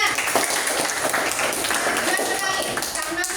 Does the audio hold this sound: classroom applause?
yes